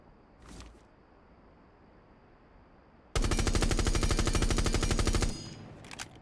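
Rainbow Six Siege gunfire from a Thatcher weapon fitted with a muzzle brake: after near silence, one sustained automatic burst of rapid, loud shots lasts about two seconds, then cuts off.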